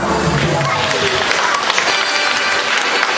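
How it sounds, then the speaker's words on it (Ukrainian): Loud audience applause at a concert event welcoming a band to the stage: dense, continuous clapping from a large crowd, close and full, with some crowd noise mixed in. "Заслуговують вони гучних аплодисментів."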